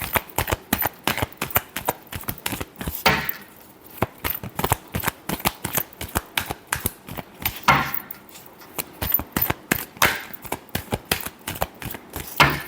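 Tarot cards being shuffled by hand in quick, dense riffling bursts of crisp papery snaps, close and steady across the whole stretch with brief pauses, no voices.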